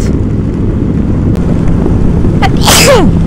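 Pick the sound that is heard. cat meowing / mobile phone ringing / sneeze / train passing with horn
sneeze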